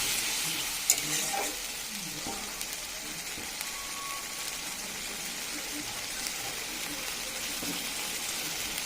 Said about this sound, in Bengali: সব একসাথে ভালো করে কষিয়ে নেবো মশলাটাকে